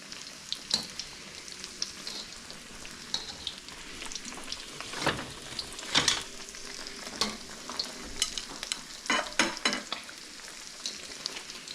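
A breaded pork cutlet deep frying in a wok of hot oil, giving a continuous close crackle and bubbling with sharper pops and spatters scattered throughout. No one speaks.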